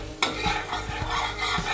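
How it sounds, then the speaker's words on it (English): Butter being stirred in a pan over a low gas flame, with a soft steady sizzle and scraping spoon strokes repeating at close range. "Then now mix well properly this butter and always remember gas flame always low"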